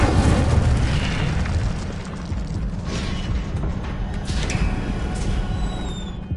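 A fire spell cast in a Harry Potter video game: a loud, continuous roaring burst with a heavy low rumble that starts strongest and then holds steady throughout, with no voices.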